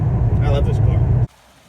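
A big Ford Crown Victoria V8 pulls away with a loud, low engine rumble that holds steady for about a second, then cuts off sharply into near silence.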